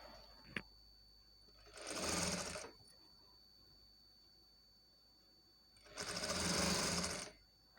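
A sewing machine stitches a shape belt in two separate runs, a short burst and then a longer one, loud and close, with quiet pauses between and no talking.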